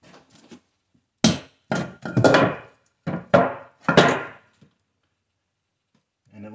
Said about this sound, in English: this is gonna hold when I knock this board out